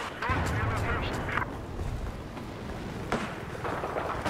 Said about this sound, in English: There's to be a machine gunner